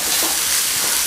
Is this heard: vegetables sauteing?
yes